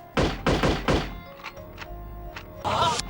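Sniper rifle shots in the video game No One Lives Forever: three heavy, close thumping reports in quick succession, followed by a few softer knocks and a final burst of noise.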